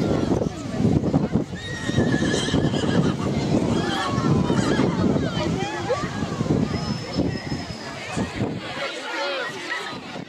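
A horse neighs repeatedly amid a crowd at an archaeological festival in Biskupin, Poland, with steady background chatter, wind noise and occasional hoof clops throughout.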